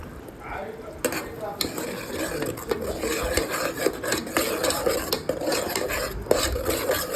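Coriander, mint and coconut paste stirred in a pan on low flame, a soft continuous sizzle under scraping spoon strokes and occasional metallic clinks, close up, with no voices.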